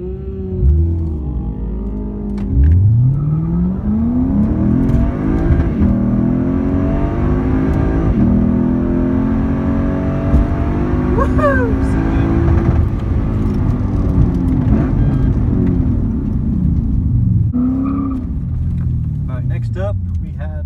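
N54-engined Lexus IS drag car with a tune, downpipes and E85 fuel, revving hard at a drag strip. Rising engine tones and loud sustained acceleration run alongside someone talking throughout.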